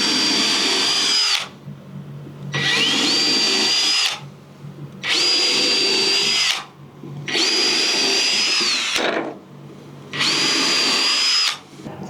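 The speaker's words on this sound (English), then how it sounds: "The drill really doesn't sound good at all. It sounds cheap." A Ryobi drill drives screws into Merbau decking in five steady bursts, each a loud, high whining run of about two seconds, separated by short pauses.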